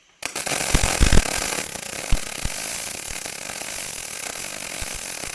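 Arc welding on a cracked, rusty metal part of a Kuhn feeder bedder, a steady close crackling buzz running continuously after a sharp start, with a few louder pops along the weld.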